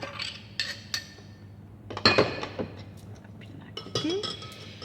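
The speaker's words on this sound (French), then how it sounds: "Je débarrasse un petit peu mon plan de travail." Dishes being cleared off a kitchen worktop, with scattered clinks and knocks of glass and crockery, a sharper clatter in the middle and a few lighter taps around it, fairly close and moderate in level.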